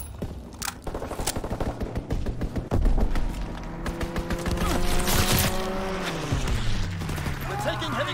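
Dense, continuous bursts of automatic gunfire from an enemy strafing run in the multiplayer video game Call of Duty WW2, loud and sustained throughout, with scrapes and other battle noise mixed in.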